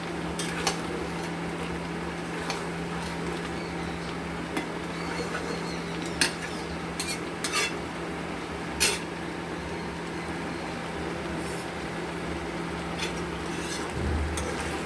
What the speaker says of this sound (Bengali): এবার আঁচ বাড়িয়ে নিয়ে আমরা মাংসটাকে কষবো ভালো মতো করে।